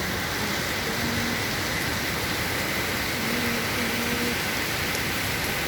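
Steady rain falls outside a window as a continuous, even hiss of dense patter. Faint low tones come and go underneath, and there is no clear speech.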